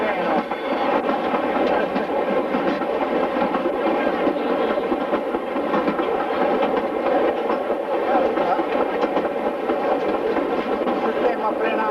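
A small green tourist train in Sardinia runs on rails, a loud continuous rumble with steady clattering from the wheels, heard from on board throughout.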